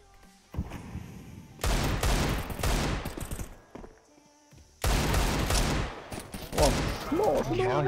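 Rapid gunfire in an online shooter video game comes in two long, loud automatic bursts separated by a brief lull, with scattered sharper shots at the edges.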